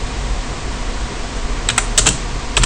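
A computer keyboard typing a terminal command on an Ubuntu Linux machine, a short burst of a few crisp keystrokes near the end over a steady background hiss, close and fairly loud, no voices.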